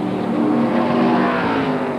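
A 1994 ARCA SuperCar Series race car at Talladega Superspeedway passes along pit road, its engine a loud, steady roar close by with no voices.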